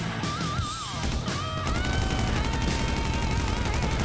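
Dense gunfire in GTA 5 Online, a continuous rattling barrage of shots under a wavering whine of game sounds, loud and sustained throughout.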